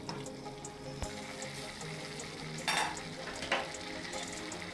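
A spoon stirs rice into chicken fry in a pot, producing a continuous close sizzle with scraping and clinking, plus a couple of brief louder bursts as the mixture is turned; no speech.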